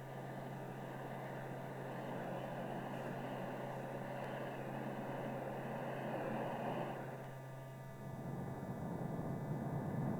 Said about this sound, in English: Aircraft 2 moves away from the engine run-up pad at Palmdale.